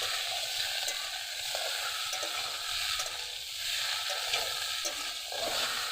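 Food fries in a pan of oil with a constant close crackle and sizzle, broken by occasional light stirring clicks, with no talking.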